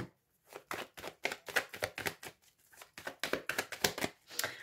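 Tarot cards being cut and handled on a table, with a series of crisp, close slaps and shuffles in a quick, uneven rhythm and no talk over them.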